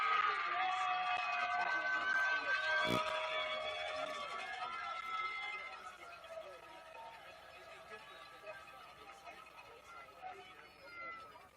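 Spectators at a Savannah High School versus Benton High School varsity football game give a round of applause and scattered cheers, loud at first and then fading into softer background crowd noise.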